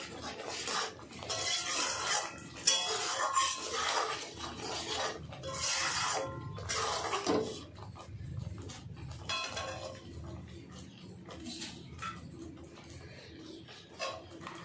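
A spoon scrapes and clinks in a bowl while a paste of mustard, poppy seed and green chilli is mixed for a hilsa fish curry, with irregular bursts of metallic stirring separated by short pauses.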